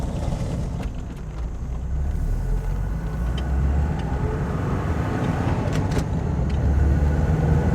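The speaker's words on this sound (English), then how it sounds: "first drive on the late rear end swap and full coilovers" Porsche 944 on new full coilovers and a late rear end swap, heard from inside on the road as a steady low engine and road rumble with wind noise, no talk.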